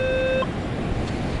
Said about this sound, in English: pretty much if you hear a beep, it registers something